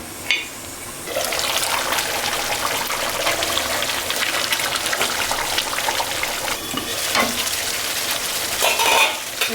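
Mustard hilsa fish cooks in oil with green chilies in a pan, giving a loud, continuous bubbling sizzle that rises after a quieter opening, with a few brief scrapes and knocks near the end; no voices.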